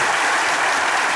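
Studio audience applause for a singer on a Turkish comedy show, a dense, loud, steady burst of clapping that fills the whole moment with no talk over it.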